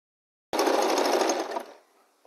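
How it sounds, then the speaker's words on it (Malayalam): A sewing machine stitches the bottom of an organiser made from an old shirt, starting abruptly after silence and running in a steady, rapid, close mechanical whir for about a second before slowing and stopping. "ഇനി നമുക്ക് അടിയിൽ ഭാഗം തയ്ച്ചു കൊടുക്കാം."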